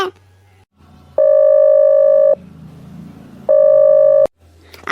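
A telephone ringback tone on an outgoing call, two loud, steady electronic rings about a second long each, separated by a pause, heard close through the handset.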